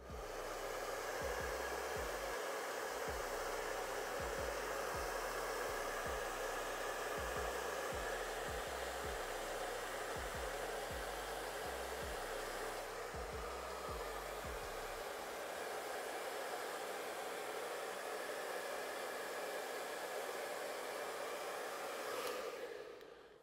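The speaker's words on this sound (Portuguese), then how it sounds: "Agora eu vou com o meu secador aqui só pra me poder secar e deixar o cabelo mais definido" A handheld hair dryer blows steadily on hair during a barbershop haircut, a loud continuous whirring drone for about fifteen seconds that then shifts to a lighter airflow before cutting off near the end, with no talk.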